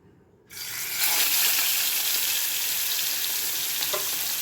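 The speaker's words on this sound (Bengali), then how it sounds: "আমি মাছগুলো তেলের মধ্যে ছাড়ছি।" Pabda fish slid into hot salted oil in a pan burst into a loud, steady sizzle that starts abruptly after a brief quiet moment and keeps spitting and crackling evenly to the end.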